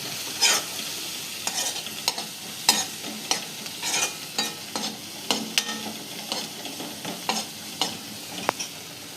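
Turmeric and red chili powder are stirred into green onion sabzi frying in a pan, with a spoon scraping in repeated rhythmic strokes over a soft, steady sizzle, close by and with no talk.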